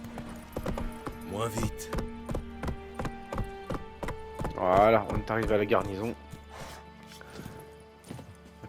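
Horse hooves clip-clop at a steady walking rhythm in The Witcher 3 video game, a sharp, regular series of close hoofbeats that continues under a man's spoken lines in the middle of the passage.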